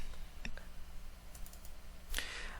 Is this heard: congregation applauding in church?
no